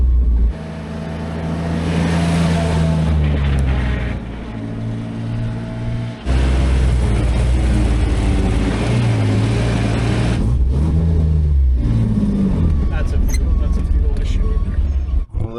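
A Toyota pickup running a swapped-in Jeep engine on its first test drive, the engine droning and revving through shifting gears at close range, with people talking over it throughout.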